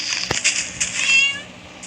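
A cat in a hardcore-mode video game meows in a few short, close cries followed by a longer drawn-out mew, with a brief knock partway through.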